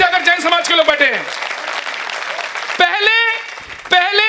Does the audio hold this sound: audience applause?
yes